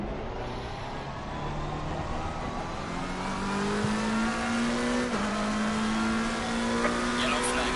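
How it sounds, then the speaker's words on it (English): Race cars in a racing video game lap Silverstone, with a near engine droning steadily and climbing in pitch through gear changes while other cars add a constant background roar, and a voice speaking over it. "Tons of cars on track."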